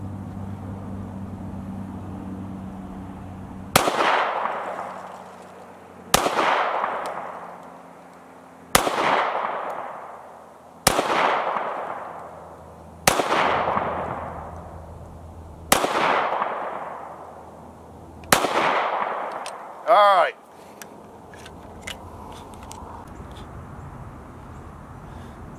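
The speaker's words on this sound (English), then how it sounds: "This is gonna be the longer grip with the 7-round magazine, and we're shooting the PMC out of this." Seven sharp gunshots from a Mossberg MC1 pistol with a longer grip and 7-round magazine firing PMC ammunition, loud and evenly spaced about two seconds apart, each ringing out with a decaying echo, followed by a brief metallic clang.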